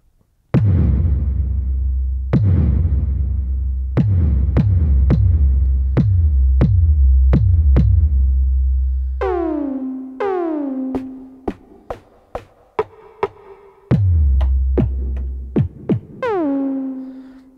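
A Roland MC-909 groovebox plays a rhythm pattern of booming kick drums and pitched synth tones with reverb, each hit a punchy thump with a decaying tail, loud and alone.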